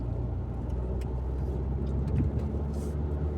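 A car on the road, heard from inside with a phone in a dashboard holder: a steady low engine and road-noise rumble, constant and moderately loud, with faint rattles and ticks over the drone and no speech.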